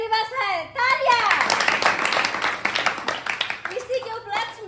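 Children clap together at an Independence Day school event for a crowd of kids, with a dense burst of clapping that rises after speech, holds for a few seconds and then gives way to speech again.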